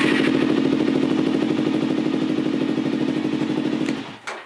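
A Suzuki LTZ 400 quad engine running on a homemade battery with the headlight on: a steady, loud, close thumping putter with mechanical clatter throughout, then cut off near the end.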